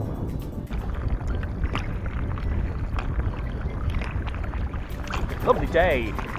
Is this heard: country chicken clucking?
no